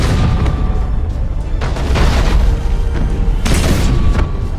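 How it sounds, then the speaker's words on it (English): Broadside macro cannons firing on a spaceship in Battlefleet Gothic: Armada, a series of heavy booming blasts in irregular bursts over a continuous low rumble, loud and close. "Broadside macro cannons ready to fire on your order, sir."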